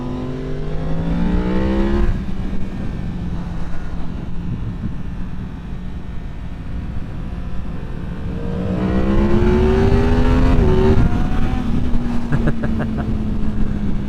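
A 2023 Yamaha MT-10 motorcycle with a flashed ECU revs hard and accelerates into a power wheelie, engine pitch sweeping up through the gears, loud and close with wind roar and no talking.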